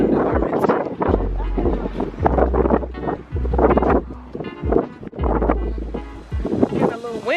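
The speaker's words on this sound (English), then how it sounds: "Getting a little windy out here." Wind hitting a microphone outdoors, low rumbling gusts in uneven bursts under a person talking close to the mic.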